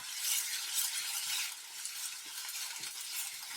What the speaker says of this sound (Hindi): यहाँ पे हमने सिर्फ प्याज को इतना फ्राई करना है कि ये हल्का सा नरम हो जाए।